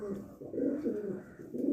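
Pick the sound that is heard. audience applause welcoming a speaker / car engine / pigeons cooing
pigeons cooing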